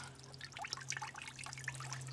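Water drips from a mangave plant freshly pulled out of its soil, a scatter of faint, quick drips and trickles over a steady low hum, with no voices.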